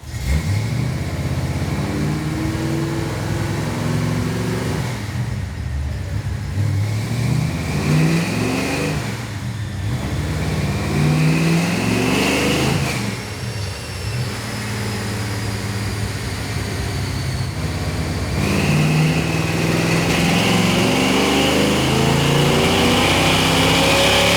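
A Fox Body Mustang engine roars loud and close on a dyno, running through several long revving pulls that climb in pitch, drop back, then wind up again, with no talking over it.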